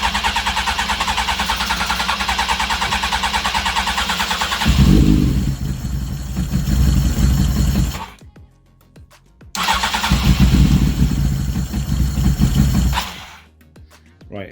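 A Honda CBR900 streetfighter motorcycle engine being started and revved in a garage, loud and close, with rough idling, a couple of throttle blips and two abrupt cut-outs into silence.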